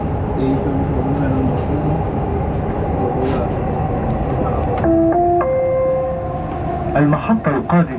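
Dubai Metro train running near Dubai Internet City station, a steady loud rolling rumble with a rising electric motor whine and door chime tones near the end, heard from inside the carriage.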